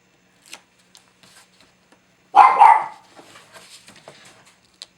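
A dog gives two quick barks close by, breaking an otherwise quiet room with a few faint taps and rustles around them.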